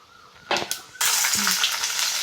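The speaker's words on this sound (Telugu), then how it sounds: "ఆయిల్ కాగింది ఆవాలు వేసుకున్నాం కొన్ని జీలకర్ర కొంచెం" Mustard seeds and cumin hit hot oil in a pan while making samosa filling. After a couple of soft clatters, a loud, continuous sizzle and crackle starts up close and carries on without any talk.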